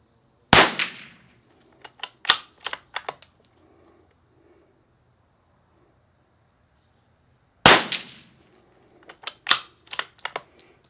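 Two loud, sharp rifle shots from a CZ455 fitted with a Lothar Walther barrel and Harrell tuner ring out at an outdoor range several seconds apart. Each is followed by small handling clicks over a thin, steady insect-like drone.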